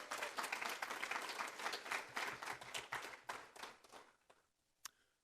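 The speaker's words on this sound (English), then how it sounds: "Give yourselves a wonderful round of applause" Applause from a convocation audience, a dense crowd clapping steadily for about four seconds before thinning out, with a last few scattered claps at the end.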